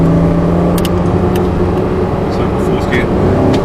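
A Porsche accelerates steadily and shifts up into fourth gear, its engine droning loud and close throughout, with a voice talking over it.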